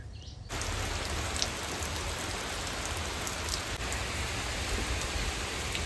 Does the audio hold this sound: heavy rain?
yes